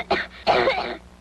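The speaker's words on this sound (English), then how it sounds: "yet the big jarring cough" A single big, jarring cough: a short initial burst followed after a brief pause by a longer, harsh throaty hack, close and fairly loud with no talking.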